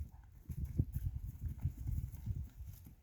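A horse being led and turned left and right gives faint, steady clip-clopping hoofbeats at a quick, even rhythm, heard alone at low volume.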